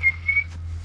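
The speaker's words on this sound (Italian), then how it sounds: "Non so ben fischiettare." A person whistles two short, thin steady notes in a game about an asylum whistleblower, heard over a low hum with no speech.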